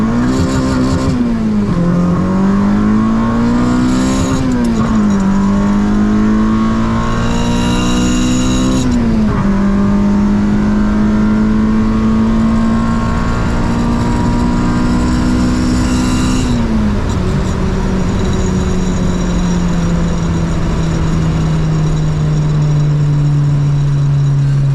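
A modified Honda K24 EK coupe makes a full-throttle pull, its engine rising in pitch through several gears with brief dips at each shift, loud and close with a raspy exhaust note.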